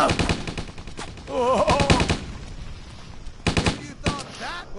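A bazooka in the zombie video game Stubbs the Zombie fires in several sharp blasts, clustered near the start and again later, loud explosive bursts over game background noise.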